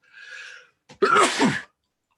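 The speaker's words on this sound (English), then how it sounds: "I was sneezing." A single sharp sneeze, preceded by a brief breathy intake, close and fairly loud, followed by silence.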